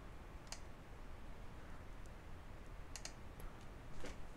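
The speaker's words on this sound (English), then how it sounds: "So I'm gonna click it and drag." Soft, sparse mouse clicks during Photoshop pen tool tracing, a handful of faint isolated ticks over a quiet hiss.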